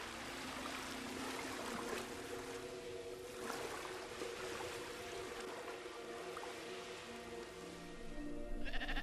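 Sheep bleat in an Icelandic landscape, faint wavering calls over a steady wash of running water and wind, distant and low in level.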